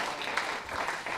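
Audience clapping at a stand-up comedy show, dense steady applause filling the whole brief moment.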